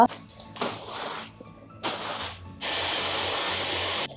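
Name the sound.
Dyson hair styler blowing air while styling hair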